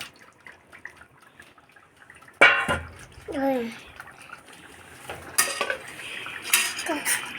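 Mutton pieces are tipped into a cooking pot of gravy and stirred, with sharp metal clanks of a utensil against the pot followed by scraping and softer knocks.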